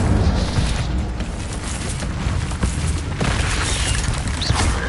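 Incendio fire spell blasts in the Hogwarts Legacy video game, a loud, continuous roar of booming, crackling bursts with no pauses.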